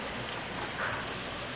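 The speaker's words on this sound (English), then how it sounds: "We have a big hailstorm." Hail falling outside during a big hailstorm: a dense, even hiss of pellets striking surfaces, faint and distant, steady throughout without talk.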